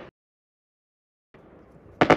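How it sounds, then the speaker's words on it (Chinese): Fireworks going off outdoors: after a pause, a low crackling hiss builds, then a loud, sharp double burst erupts close by at the very end. "放烟花耶！"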